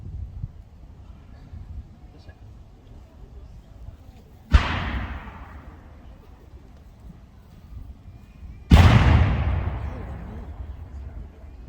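Two loud cannon blasts from a Battle of Camden re-enactment in South Carolina, fired at a steady pace several seconds apart, each a sharp boom with a long rumbling tail echoing under smoky trees over faint background noise.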